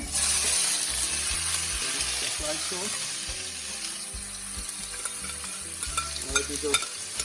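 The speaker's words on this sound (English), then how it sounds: "I pour a little oil in my pot, and now I'm just going to be sauteing it." Onions, thyme and Scotch bonnet pepper sauté in hot oil in a pot for salt fish and okra, giving a steady close sizzle with scraping stir strokes throughout and a brief spoken phrase.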